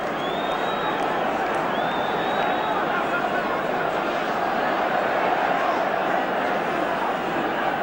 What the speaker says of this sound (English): There's a reaction in the crowd